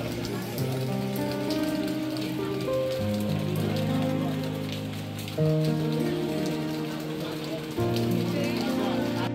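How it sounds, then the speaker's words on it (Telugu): Heavy rain falls at Lempuyang Temple in Bali as a constant, even pattering wash. Sustained tonal music plays over it throughout. "నా నెంబర్ కోసం వెయిట్ చేస్తుంటే ఇక్కడ భారీగా వర్షం కురుస్తుంది."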